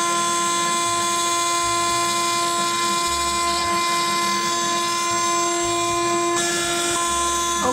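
A 6090 CNC router spindle turning at 22,000 RPM carves a 3D relief coin in brass, giving a steady, loud high-pitched whine with strong tonal harmonics and a constant cutting hiss, with no speech.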